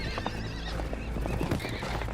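Horses whinnying with hooves clip-clopping in a fantasy drama scene, a steady mix of neighs and hoof beats under a continuous background.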